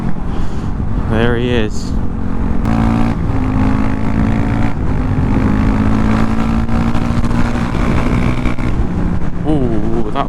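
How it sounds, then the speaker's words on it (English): A second motorcycle accelerates up from behind a Honda CB125R on the road, its rising engine note swelling steadily over constant wind rush, with a rider speaking briefly. "He's just going to accelerate up behind me now."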